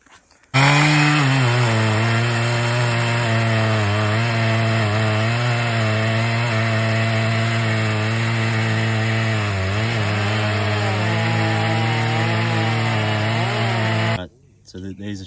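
Chainsaw fitted with a full-comp semi-chisel chain running at steady high revs on a big dead lightning-struck gum tree, a loud close drone held for about fourteen seconds before cutting off.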